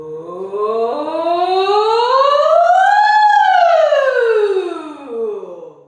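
A human voice imitates a siren as a vocal warm-up, gliding smoothly from low up to high and back down to low in one sustained, loud, clear sweep.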